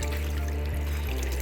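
Water trickles steadily into a children's sand pit at Ngaruawahia, New Zealand, a continuous close-up flow with a faint low hum beneath it and no voices.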